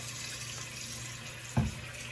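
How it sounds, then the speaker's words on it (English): Cold water runs from a tap into an old sink in a steady, even rush, with a faint knock partway through. "you get your sink and you're going to fill it with some cold water, enough to submerge your sweater"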